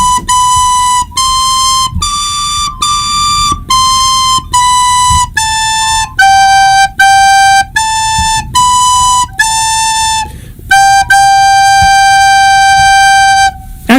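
A recorder plays the second phrase of a simple melody as a series of clear, bright, separately tongued notes, mostly short with a long held note at the end, loud and close, with no voices.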